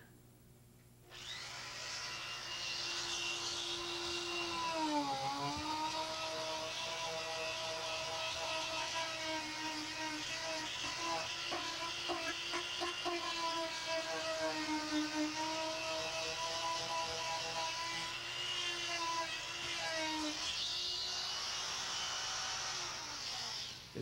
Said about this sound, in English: I'll go ahead and use this Dremel here.